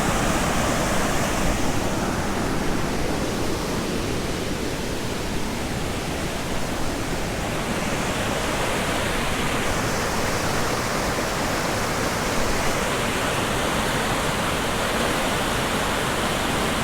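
Chutes Croches waterfall near lac Monroe in Mont Tremblant pours in a steady, dense roar, loud and unbroken with no voices.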